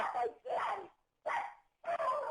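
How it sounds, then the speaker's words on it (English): A dog barks in four loud, close bursts with short silent gaps between them. "Bobo, don't you know how to put your dog in another room"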